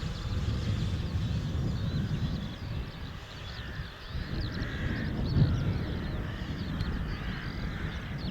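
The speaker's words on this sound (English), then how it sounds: "Even the crows are cheering you on." Crows cawing outdoors under an open sky, scattered calls over a steady low wind-like rumble, moderately distant and intermittent across the stretch.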